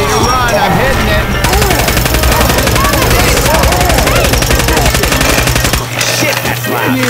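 Sustained rapid gunfire aimed at the Tank in the video game Left 4 Dead 2, loud dense volleys rattling continuously for several seconds while players talk over the shooting.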